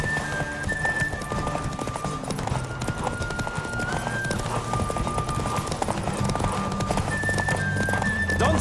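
Horse galloping in a race in the video game Witcher 3, rapid hoofbeats pounding continuously with whinnies and tonal game sounds layered over the running.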